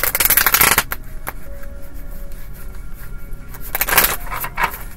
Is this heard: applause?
no